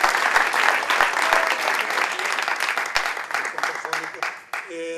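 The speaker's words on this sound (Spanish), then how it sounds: "un aplauso para él" Full audience applause in a theatre for a cast member of the play 'El beso de la virreina': dense, continuous clapping that is loud at first and eases off toward the end, with voices talking over it.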